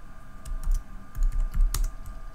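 Keys tapped on a computer keyboard during design work in Adobe Illustrator, a short burst of close, crisp clicks in two quick clusters, with no voice.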